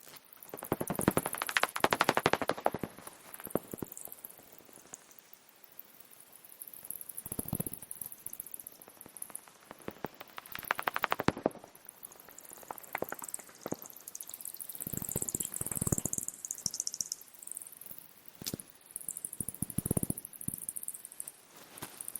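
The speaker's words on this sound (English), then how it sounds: "So I think it's Dorberton's bat." Daubenton's bat calls recorded along the River Taff, heard as rapid bursts of clicks and buzzy ticking that come in irregular clusters, with quieter gaps between them, over a faint background hiss.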